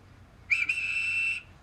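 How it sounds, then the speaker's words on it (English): A railway guard's whistle sounds one shrill, steady blast lasting about a second, with a brief dip near its start, loud and close over faint background hum. "The guard blew his whistle"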